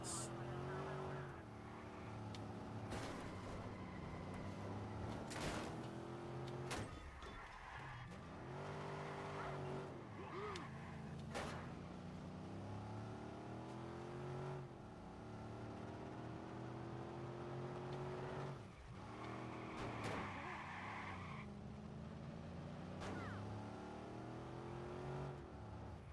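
Cars revving, skidding and crashing in the video game Watch Dogs: a droning engine rises and falls, broken by sharp impact bangs and tire squeals, with a voice talking over it.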